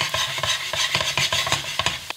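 A utensil stirs a bechamel roux with onions in a pan for Spanish chicken croquetas, making a close, rhythmic scraping in quick repeated strokes over a faint sizzle, with no voices.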